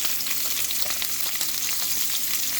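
Steaks searing in a non-stick pan give off a loud, steady sizzle and crackle that holds constant throughout, with no voices over it.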